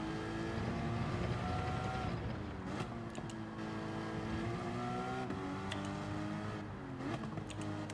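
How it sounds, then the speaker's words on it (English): A race car in the Gran Turismo 7 video game at Barcelona, with engine notes rising and falling through rapid downshifts and short rev blips, a steady loud in-car drone throughout. "I'm really only dropping it into first gear for a second there, just to try to get a little blip of rev"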